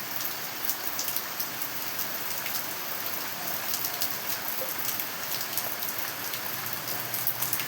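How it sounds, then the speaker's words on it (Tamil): Steady rain pours down close by, a dense hiss of drops pattering on surfaces without pause. No one speaks. "நல்ல மழை பெய்யுது."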